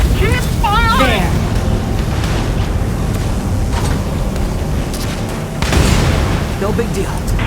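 Gunfire and heavy explosions fill a Valkyria Chronicles 4 battle, a dense loud rumble of booms and blasts running throughout, with voices shouting over the combat.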